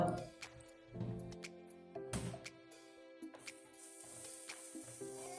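Spice powders with chilli powder sautéing in a pan, a soft sizzle under intermittent scraping stir strokes roughly once a second, quiet and close.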